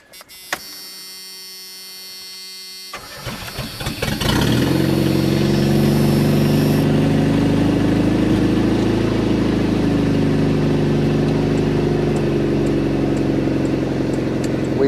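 A junkyard Chevrolet S10 pickup's engine is quiet at first, then cranks over around three seconds and catches, settling into a loud, steady, close idle that runs continuously to the end.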